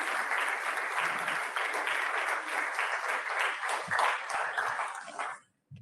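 At a Swarnim Vijay Varsh celebration, an audience gives sustained, steady applause for dignitaries on the dais, a dense wash of clapping that holds evenly and then cuts off abruptly at the end.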